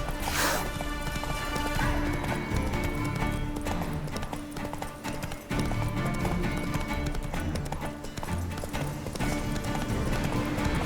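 A ridden horse gallops in The Witcher 3, with rapid, loud clip-clop hoofbeats repeating in a steady rhythm against a full game soundscape.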